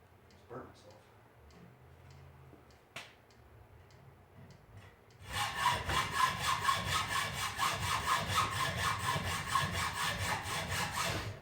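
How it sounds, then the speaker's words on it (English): A metal BMX brake tab held in a vise is cut with a hacksaw, bringing close rhythmic rasping strokes that start abruptly and repeat at an even pace. Quieter knocks and shuffling come before the sawing. "So when you're hacksawing this, be kind of really gentle"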